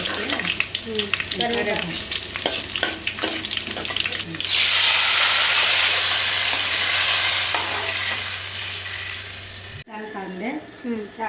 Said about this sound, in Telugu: ఇప్పుడు ఆవాలు ఉద్దిపప్పు ఆవాలు గోల్డ్ కలర్